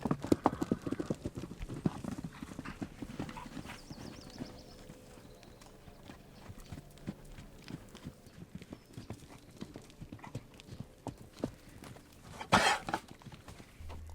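Horses walk through the Arizona desert near Tombstone, hooves clip-clopping in an uneven, close rhythm that fades to sparse steps, with a soft snort near the end and faint voices.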